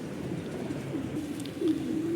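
Racing pigeons on a 105 km club training flight cooing softly at the loft, a low, steady murmur over constant wind noise.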